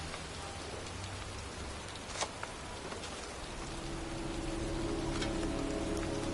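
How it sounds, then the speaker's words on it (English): Heavy rain falling outdoors in a cemetery, a dense, steady hiss of drops hitting surfaces with a few sharper nearby splats, continuous and close, no voices. "It's cold. It's raining."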